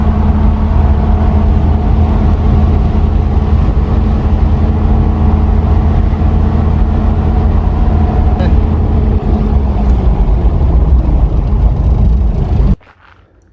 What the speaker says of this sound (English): we're just taking the HILUX for a just test drive, and we need to bed the brakes in as well